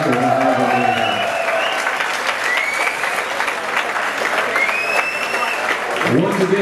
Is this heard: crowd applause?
yes